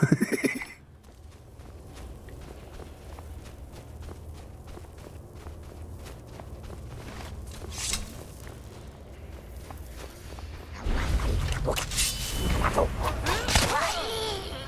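A horse whinnies and hooves clop in a steady rhythm under a low ambient hum, with a louder burst of galloping and movement near the end, in the video game The Elder Scrolls V: Skyrim.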